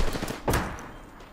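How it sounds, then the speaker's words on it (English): Video game gunfire strikes from two sides in several sharp bursts, one loud shot early and another near the end over a busy game background. "I'm getting shot by from two sides"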